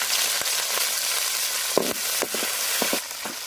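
Curry leaves crackling in hot oil with mustard seeds, dal, dried red chillies and cumin, a loud continuous sizzle with sharp spitting pops bursting through it.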